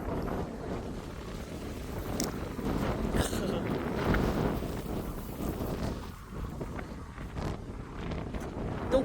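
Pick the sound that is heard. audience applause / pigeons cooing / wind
wind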